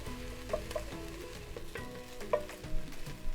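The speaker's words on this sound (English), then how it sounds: "Cooking the onions over a medium heat for about 4 to 5 minutes" Onions frying in a pan over medium heat with carrot to follow for marinara sauce: a soft, steady sizzle with occasional clinks and scrapes of a utensil, fairly quiet and close.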